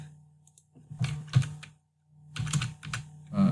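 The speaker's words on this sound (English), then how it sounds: "I'm going to go here and type" Fingers type on a computer keyboard in two short clusters of close, crisp keystroke clicks separated by a pause, over a low steady hum.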